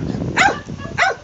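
A Shetland sheepdog gives two short barks about half a second apart, close by and moderately loud, over a low background rumble.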